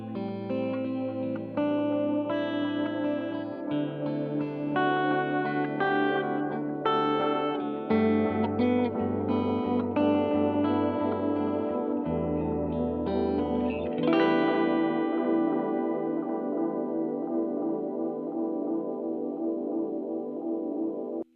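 An electric guitar runs through an ambient delay effect pedal with the feedback turned down, playing sustained chords with chorus-like shimmer and short echo tails, steady and moderately loud, without talk.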